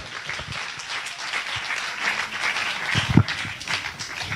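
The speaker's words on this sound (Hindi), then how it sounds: "एक बार जोर से ताली बजा के स्वागत करें" An audience at a Christian worship gathering applauds to welcome a speaker, a dense, moderately loud patter of clapping that holds steady for a few seconds without voices.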